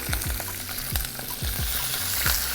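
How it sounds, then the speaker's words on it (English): Spinach sautéing in olive oil in a pan, a loud steady sizzle and crackle with repeated low scraping stirs about every half second, close up and without talk. "A little bit of olive oil, just going to really quickly saute some spinach."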